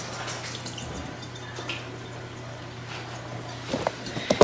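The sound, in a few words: water running while washing hands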